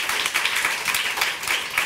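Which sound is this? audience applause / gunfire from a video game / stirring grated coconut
audience applause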